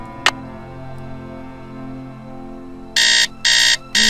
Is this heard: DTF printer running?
no